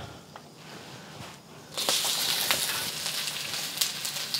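Onions hitting hot oil in a pan for moo shu pork, quiet background at first, then a sudden loud crackling sizzle that holds steady with scattered pops.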